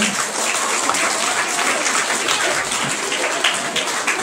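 A school crowd at a girls' institution applauds a senior teacher, steady dense clapping that holds loud and even throughout, close and filling the room.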